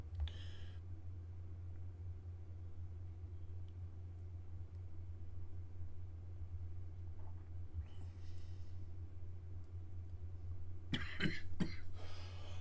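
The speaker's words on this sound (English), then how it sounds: "you have to excuse me coughing" A person streaming coughs nearby, a couple of short sharp coughs near the end over a low steady hum, with a faint earlier throat sound.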